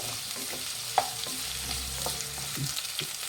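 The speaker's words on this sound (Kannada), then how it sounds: "ಒಂದು ಅರ್ಧ ಇಂಚಷ್ಟು ಶುಂಠಿ ಹಾಕ್ತಾಯಿದ್ದೀನಿ. ಇದಷ್ಟು ಚೆನ್ನಾಗಿ ಫ್ರೈ ಮಾಡಿ" Half an inch of ginger frying in a pan for radish chutney, a close steady sizzle with stirring scrapes and one sharp clink of the spoon.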